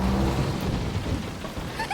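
Rain and thunder in an anime episode: a steady wash of heavy rain with a low rolling rumble of thunder underneath, loud and continuous.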